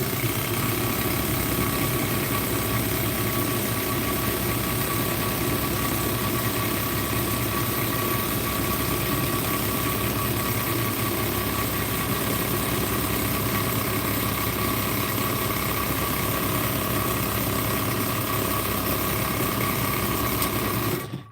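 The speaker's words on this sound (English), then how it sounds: "Sorry for the noise. I had to wind the bobbin up." A sewing machine runs continuously while winding a bobbin, giving a steady whirring motor drone with a fast, even vibration that lasts about twenty seconds before stopping abruptly. No voices are heard.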